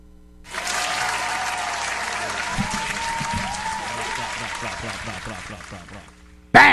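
Applause starts abruptly and holds steady, many hands clapping, then thins into scattered individual claps before a sudden loud burst at the end.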